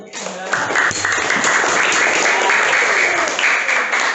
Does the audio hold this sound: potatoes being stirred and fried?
no